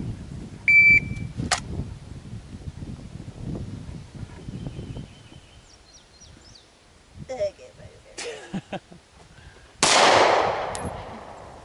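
Gunfire at a shooting range, with a loud close shot cracking out and ringing off near the end, an earlier sharp report, and people talking quietly between shots.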